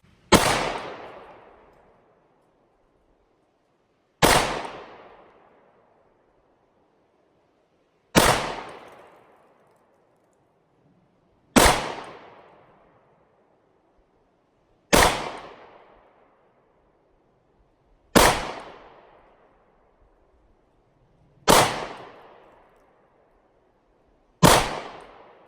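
Eight loud, sharp shots from a Glock 43X pistol fired at a target, spaced evenly about every three and a half seconds, each with a short ringing decay and nothing else between them.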